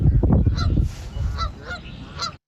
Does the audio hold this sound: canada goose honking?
yes